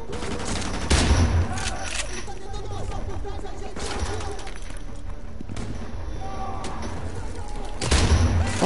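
AK rifle firing in the remastered Call of Duty Modern Warfare 2 campaign, loud sustained automatic bursts with heavy thumps, battle noise around them and a voice speaking over the shooting.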